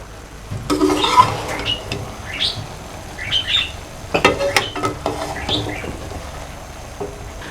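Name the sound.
stirring cooked vegetable pulao rice in a pot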